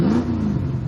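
A Ford Falcon with a 302 small block V8 and newly fitted $100 custom mufflers gives a brief, deep rev, one short burst up close.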